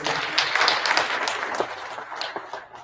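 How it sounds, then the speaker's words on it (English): A crowd claps in a steady patter of applause that gradually thins and fades toward the end. "let's give a good round of applause for this wonderful initiative"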